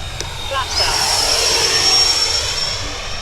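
An FMS Su-27 Flanker twin 70mm EDF RC jet flies touch-and-go passes, its high ducted-fan whine rising and sustained as the model approaches and swells nearby.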